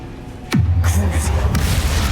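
A Bombarda blasting spell explodes in Hogwarts Legacy, a sudden loud boom with a falling tone that settles into a heavy rumbling tail, with a second sharp crack a second later over continuing low roar.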